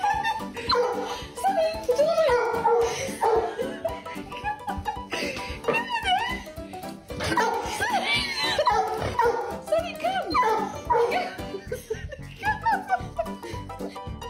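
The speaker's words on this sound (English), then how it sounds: "this dog will not accept having a second dog in the house" A dog in a home barks, yips and whimpers in excited bursts at another dog, fairly close, with people talking and laughing between the outbursts.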